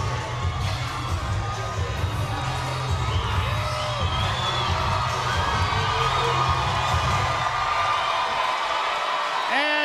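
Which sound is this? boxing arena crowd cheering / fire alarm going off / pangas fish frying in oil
boxing arena crowd cheering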